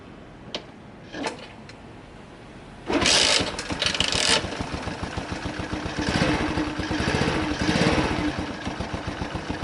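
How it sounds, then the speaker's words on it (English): A Honda C90 motorcycle engine fires up after a few brief clicks and settles into a steady, close, rattling idle that runs alone for several seconds. "Idling a little bit low, let's turn it up a bit."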